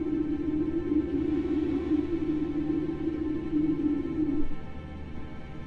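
A seismic recording from the ice ghost, heard as a steady, droning tone that holds for about four and a half seconds and then cuts out, with faint layered orchestral sound beneath.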